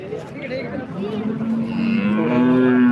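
A cow at a cattle market gives a single long, loud moo that rises and holds steady, close by, with faint market noise behind.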